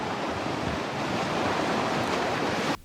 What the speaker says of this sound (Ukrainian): Тече крига.